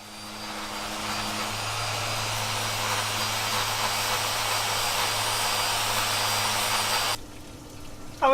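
Power sander stripping many layers of old bottom paint off a sailboat hull in a boatyard, a steady loud whine running continuously for about seven seconds before cutting off.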